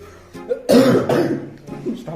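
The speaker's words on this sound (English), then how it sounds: "Stop coughing." A person coughs a few times in quick, harsh bursts close up, with some throat clearing between them.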